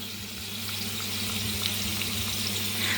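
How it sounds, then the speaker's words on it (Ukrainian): Potatoes, just taken out after about 45 minutes of baking in a handleless cast-iron pan, sizzle and crackle loudly and steadily up close, with no voices. "Як вона шкварчить."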